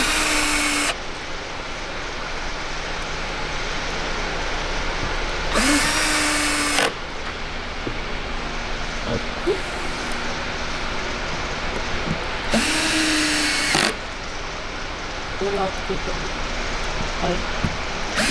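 Power drill driving screws into the guide pins of a PEAK window slider during repair: two close, loud whirring bursts of a few seconds each, separated by quieter handling noise.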